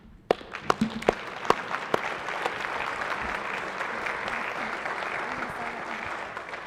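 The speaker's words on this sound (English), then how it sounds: "I just want to give a round of applause to Joyce Oliveira on her retirement" Audience applause breaks out in a state Senate chamber during a floor session, steady and moderately loud, opening with a few sharp individual claps before settling into a continuous wash of clapping.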